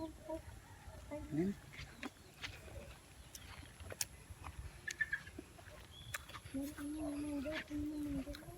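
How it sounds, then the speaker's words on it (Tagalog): A hen clucking while laying eggs in a rural Philippine farmyard, faint scattered clucks and short calls in the distance, mostly under people talking nearby. "Uy, may nangingitlog na manok dyan."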